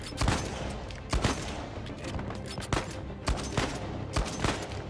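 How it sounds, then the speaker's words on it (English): Rapid bursts of semi-automatic gunfire from an in-game weapon in Uncharted 4, loud and close, firing in quick uneven volleys with brief gaps between them and no talk over them. "I love this semi-automatic weapon."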